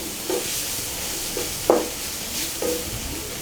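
Water lilies cooking in a pan are stirred with a spatula, giving several soft scraping strokes spaced about a second apart over a faint, steady sizzle, close by and without voices.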